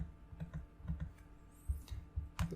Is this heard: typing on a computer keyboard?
yes